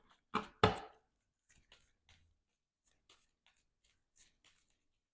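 Cards from the Marvel Champions card game being shuffled by hand: two sharp riffles up front, then a string of soft, quiet card slaps and flicks spread out in a near, otherwise silent room.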